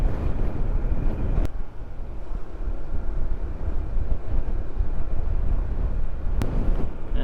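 Strong wind roars and buffets steadily throughout, a dense rumbling rush with two faint sharp ticks, no voices.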